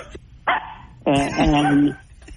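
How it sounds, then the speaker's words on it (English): Excited house dogs let out a short burst of loud, close barks and yips: one quick bark, then a longer run of overlapping barking. "It's so funny that your dogs are going nuts"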